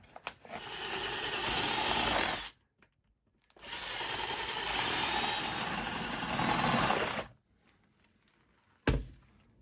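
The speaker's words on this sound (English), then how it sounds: "You can also use a 1/2 inch spade bit. Works fine." A 1/2 inch spade bit drills through pallet wood in two sustained loud bursts with a pause between, ending with a short knock.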